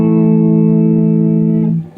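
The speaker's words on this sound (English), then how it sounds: "let's go to chorus delay and reverb." A sustained electric guitar chord rings out through a Crate V5212 amplifier's chorus, delay and reverb effects, with weak tubes and minimal presence, holding steady before cutting off abruptly.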